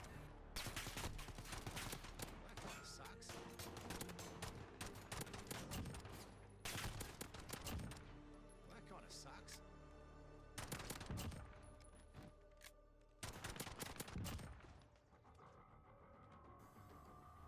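Bursts of rapid gunfire crackle in Call of Duty Modern Warfare survival mode, coming in several loud clusters of automatic shots with short quieter gaps between them and no talking.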